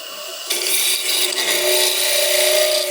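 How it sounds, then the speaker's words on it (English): A woodturning tool cuts a spinning piece on a lathe and chatters against a thin tenon, making a loud, steady, rough scraping rasp that starts abruptly and carries on without a break. "You notice I'm having chattering problems, and that's again because that tenon's too thin"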